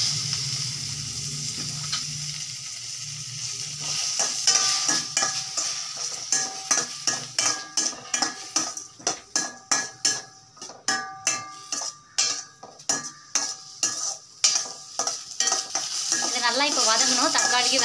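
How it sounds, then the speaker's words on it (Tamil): Tomatoes and onions fry in a pan for masala pasta while a utensil scrapes and clacks against the pan in quick rhythmic strokes over a continuous sizzle, close and fairly loud, with no talking. "தக்காளிக்கு வெங்காயமும் பச்சை வாசனை போகிற வரைக்கும் நல்லா டீப் ஃப்ரை பண்ணலாம்."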